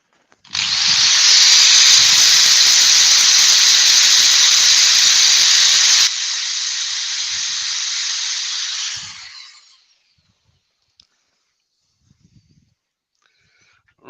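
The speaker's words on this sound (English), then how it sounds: "I'll just get my 240 grit again and just go over the textured part just to take out any feathery bits" Sandpaper of 240 grit rubs over the textured part of a turned wooden bowl, a bright, loud, continuous hiss that softens after several seconds and then fades out, leaving near silence.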